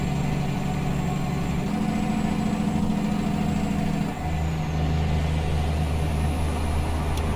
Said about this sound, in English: That engine brake off.